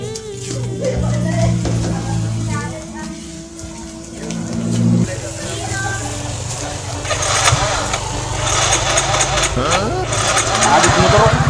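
A motorcycle engine rumbles and catches amid busy street noise, with people talking over it throughout.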